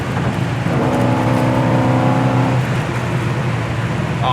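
A 1964 Pontiac GTO accelerates hard at high speed, its engine a loud, steady roar with a rising drone that holds for a few seconds, then eases slightly toward the end, with no talking over it.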